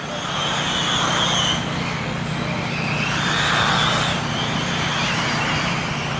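Race cars lapping a track at a TARCAR event in Toledo, engines droning steadily at a distance and swelling twice as cars pass, with no talk over it.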